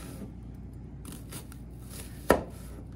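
A knife cuts down through an onion on a cutting board while making Coney Island hot dog sauce, giving one sharp, close crunch near the end of a quiet stretch.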